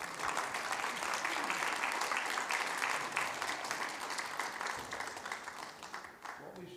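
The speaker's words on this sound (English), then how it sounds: "Round of applause for what would have been your greatest statement" An audience at a Srila Prabhupada Day celebration at Bhaktivedanta Manor claps in a full, sustained round of applause that tapers off slightly near the end, with no speech over it.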